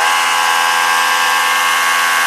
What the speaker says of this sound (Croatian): Bušenje uz upotrebu čekića.